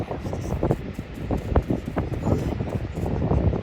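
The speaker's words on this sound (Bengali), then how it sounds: "হ্যাঁ শব্দ অনেক গর্জন করে ইয়ে আসতেছে, পানি আসতেছে।" Roaring water and gusting wind on a Welsh mountain-to-sea walk make a dense, loud rumbling roar with buffeting wind noise against the microphone, continuous throughout.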